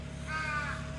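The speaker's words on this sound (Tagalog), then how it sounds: "Daming uwak." A single harsh caw from a crow, fairly clear over a low background hum.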